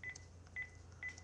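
A telephone number being dialed, three short touch-tone beeps evenly spaced over a faint background hum, quiet and close, with no talk.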